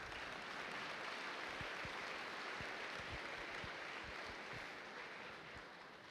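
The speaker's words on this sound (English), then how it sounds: "Let's give Ricky a round of applause and say congratulations." Applause for a scholarship winner at a high school football awards ceremony: a dense, distant wash of many hands clapping that runs steadily throughout and fades slightly at the end.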